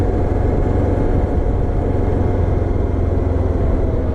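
A Voge 650 DSX motorcycle engine rumbles steadily while riding through town. The low, constant drone is loud and close, with no speech over it.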